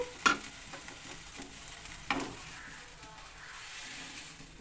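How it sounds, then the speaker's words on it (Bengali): Small shrimp sauté in a pan, a soft sizzle under a few sharp utensil clanks and stirring scrapes, fading to a quieter frying hiss, fairly faint and without talk. "এই চিংড়িটাকে আমি একটু সাঁতলে নিচ্ছি"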